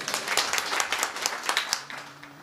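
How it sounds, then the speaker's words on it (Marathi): An audience at a devotional kirtan gathering claps rapidly and continuously for about two seconds, a dense, close round of applause that thins out toward the end. "टाळी वाजवा बरं"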